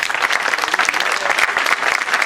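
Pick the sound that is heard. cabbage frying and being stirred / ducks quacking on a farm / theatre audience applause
theatre audience applause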